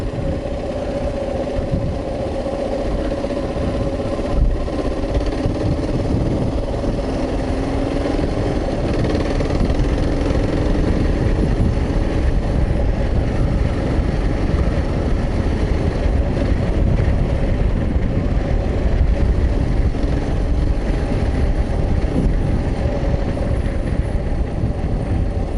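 A KLR650 dual-sport motorcycle cruising along a soft-soiled rail trail, its engine droning steadily and close for the whole stretch, with wind buffeting the microphone and no talking.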